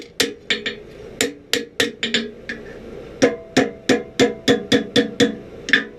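Hammer forging a steel blade for a 1700s-style scalping knife, sharp ringing blows struck one after another in quick uneven bursts with brief pauses, loud and close with no voices.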